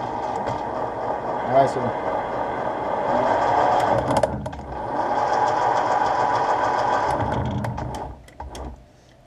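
A Schaublin mortising machine engages and runs while machining a transmission shaft, giving a steady mechanical drone with rhythmic ticking, a brief dip midway, then winding down near the end; someone speaks briefly over it.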